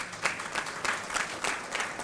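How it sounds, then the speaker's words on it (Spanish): Audience applause at a national accreditation congress, welcoming a panelist to the stage; a short burst of moderate clapping from a seated crowd with no talk over it. "un aplauso por favor para Verónica."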